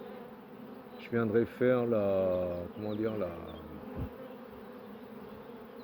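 Honey bees buzz steadily around hive colonies topped with supers, a continuous drone running under a man's French speech.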